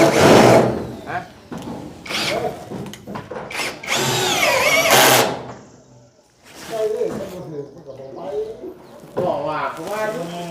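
A power drill runs during building work in short, loud whining bursts that rise and fall, with pauses between them. People's voices are mixed in throughout.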